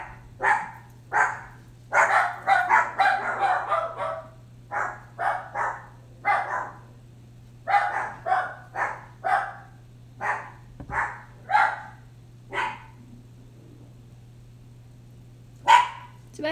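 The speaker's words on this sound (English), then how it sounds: "the dogs are just gonna go crazy" Dogs barking repeatedly in a room, a string of sharp yapping barks in uneven bursts over about sixteen seconds, with a steady low hum underneath.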